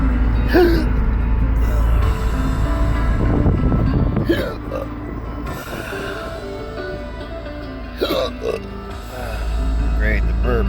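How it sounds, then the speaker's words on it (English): A driver burps and makes throaty hiccup-like noises inside a moving car, loud and close over steady engine rumble, mixed with talking. "Great, the burps too."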